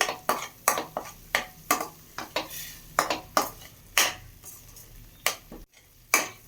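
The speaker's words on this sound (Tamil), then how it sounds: "இப்போ எல்லாத்தையும் நல்லா மிக்ஸ் பண்ணிக்கலாம்" A spoon stirs and scrapes spice masala in a pan over a low flame in quick repeated strokes, close and distinct, with short pauses between bursts.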